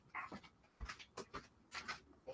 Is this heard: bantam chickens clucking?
no